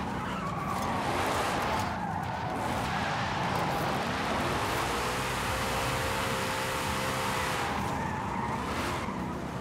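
Continuous tire squeal and engine roar from a drift car sliding around in Forza Horizon 5, with wavering pitch as the car swings through long slides, loud and sustained throughout.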